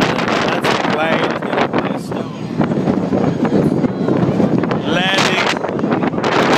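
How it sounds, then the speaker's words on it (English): A low-flying airplane landing over Maho Beach, St. Martin, roars loudly through heavy wind buffeting while people shout and exclaim nearby. "That's a plane."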